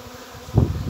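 Low, droning insect buzz from an arriving swarm of bees, growing louder and denser in the second half, close by with no voices.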